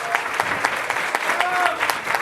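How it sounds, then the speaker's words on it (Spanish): Warm applause from the audience at a university lecture event in Tepotzotlán, steady dense clapping sustained throughout, with some faint voices mixed in. "al licenciado Jorge Zúñiga, para quien pido un caluroso aplauso."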